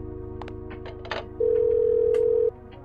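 Telephone ringing in the video game Parasite Eve 2, a single sustained electronic ring tone of about a second over a low droning background hum, preceded by soft clicks.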